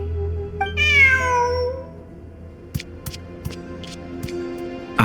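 A cat in the video game Genshin Impact lets out a single clear, drawn-out meow, followed by a few soft clicks and taps over a quiet low hum.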